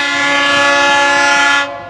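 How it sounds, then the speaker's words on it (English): A loud, sustained horn from an FEC freight locomotive, Engine 412, blares steadily for over a second and a half, then cuts off abruptly, leaving a low rumble of the passing freight train. "Loud horn on that one."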